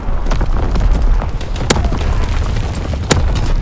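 Booming artillery blasts in Call of Duty WWII multiplayer on the Shipment 1944 map, a dense run of heavy impacts with two sharp, loud cracks standing out amid continuous low rumble.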